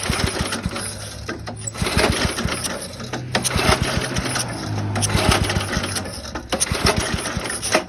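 A 5hp Briggs & Stratton engine with the choke on is pull-started without firing, giving repeated rapid rattling bursts of cranking separated by short pauses, close and fairly loud.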